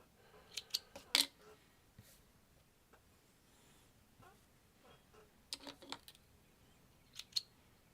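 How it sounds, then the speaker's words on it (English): Scissors snipping sewing threads at a sewing machine after sewing off onto a scrap of fabric, a few quiet, sharp clicks in small clusters over near silence. "and I'll cut my threads."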